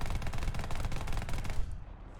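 Sustained rapid-fire buzz of an aircraft Gatling gun in War Thunder, a continuous loud brrrt stream of rounds for about a second and a half that then cuts off and trails into engine drone.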